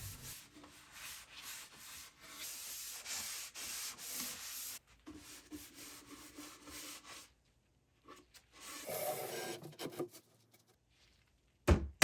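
Wooden drawer bottoms being hand-sanded during a furniture rescue, a steady scratchy rubbing in repeated strokes for several seconds, then pauses and a few shorter passes near the end.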